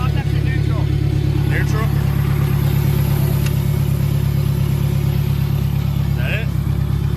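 A turbocharged K24-swapped Honda Civic EK coupe engine runs steadily after being given gas, a loud continuous mid-pitched drone with people talking over it.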